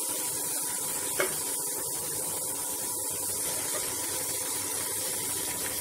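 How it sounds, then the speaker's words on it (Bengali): Spice masala frying in a pan while it is being sautéed gives a continuous close hiss and sizzle, with faint scraping stir sounds and one brief clack near the start, and nobody speaking. "এরপর মশলাটা ভালো করে কষিয়ে নেব।"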